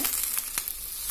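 Drumstick leaves saute in a pan, making a brief close sizzle with a few soft stirring crackles.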